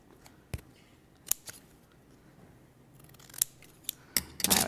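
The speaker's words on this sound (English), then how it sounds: "And bring my scissors in." Scissors trim paper during a card-making craft session: a handful of sharp snips scattered over a few seconds, with a brisk cluster of quicker cuts at the end, close and fairly faint.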